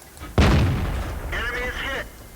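Tank cannon fire from enemies in World of Tanks, a single loud booming shot with a rumbling tail, followed by a voice talking briefly.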